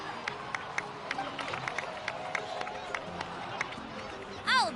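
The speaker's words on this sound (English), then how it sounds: "please give another round of applause for them" Crowd applause and cheering in Genshin Impact, Natlan, a steady wash of clapping with scattered cheers running throughout, with a brief sharper sound effect near the end.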